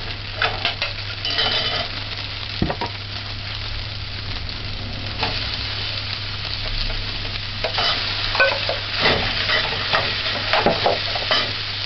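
Corned beef and sautéed onions frying in a pan, a continuous sizzle broken by repeated scraping stirs of a utensil against the pan, close and clear with no voices.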